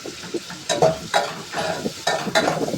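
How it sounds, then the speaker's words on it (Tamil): Tomatoes frying and being stirred in a pan for fish curry, with a steady sizzle broken by repeated scraping strokes of the spoon, close and fairly loud, with no talking. "தக்காளியை வச்சு நல்லா வறுத்து விடுறோம், நல்லா பெரட்டி விடுறோம்"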